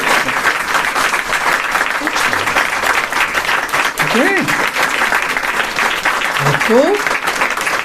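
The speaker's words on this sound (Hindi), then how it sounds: "अब बहुत जोरदार ताली बजाएं अपने लिए।" A large audience at a spiritual class applauds loudly and steadily, a dense continuous wash of clapping with a voice briefly speaking over it.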